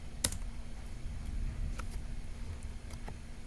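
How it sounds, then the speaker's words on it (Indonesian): Typing the chmod command on a computer keyboard in a Linux terminal, a short burst of close, crisp key clicks with a sharp first press followed by lighter taps, heard alone. "untuk komennya kita ketikkan chmod"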